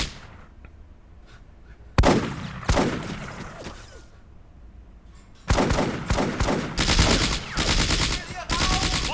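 In Combat Mission: Afrika Korps, infantry assault a farm. Loud bursts of rifle and machine-gun fire crack out in clusters, start suddenly, then build into dense, sustained volleys near the end.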